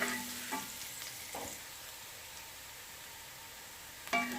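Finely chopped garlic fries in a little oil for chow mein, giving a faint, steady low sizzle with a few louder stirring scrapes near the start and end.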